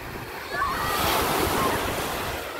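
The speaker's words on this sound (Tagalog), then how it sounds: "Ang lakas ng alon ngayon ah." Strong ocean waves break on a sandy beach, a loud surging roar of surf swelling and washing close by, with wind buffeting the microphone.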